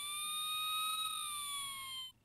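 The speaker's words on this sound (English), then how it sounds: "if you're in the USA, you already know this siren sound." An electronic US-style siren rings out from a Playmobil City Action toy fire department ladder truck: a loud, close, buzzy tone with a slight downward glide, held for about two seconds before cutting off abruptly, with no talking.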